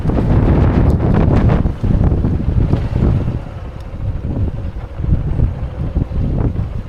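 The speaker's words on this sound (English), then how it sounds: "As you can hear, today was extremely windy" Loud, roaring wind on a mountain ridge in Vietnam buffets the microphone almost continuously, with gusty surges and rumbling low end throughout.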